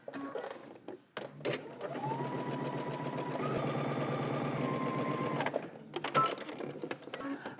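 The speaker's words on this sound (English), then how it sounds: "we're gonna go ahead and give ourselves a stitching line at the bottom of our lining" A sewing machine runs a stitching line along the bottom of a garment lining: a brief start, then a continuous close whirring hum with a rising motor tone for about four seconds, ending in a few clicks and fabric handling.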